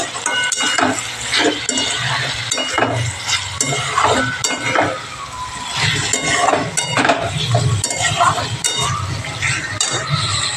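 Spice paste for a potato and paneer curry sizzles and fries in a pan, with a spatula scraping and stirring in steady repeated strokes and metal clinking against the pan, close and continuous.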